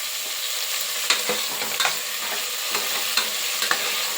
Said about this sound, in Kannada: ಇವಾಗ ನುಗ್ಗೆಕಾಯಿ ಸ್ವಲ್ಪ ಫ್ರೈ ಆಗಬೇಕು